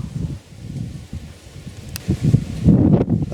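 Gusty wind blows across open bush country in Meru, Kenya, a low rumbling buffeting that swells and eases, strongest toward the end, with faint rustling and no talk.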